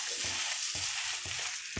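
Bread slices fry in ghee in a pan over low heat, a dense steady sizzle with soft periodic stirring or shifting thumps underneath.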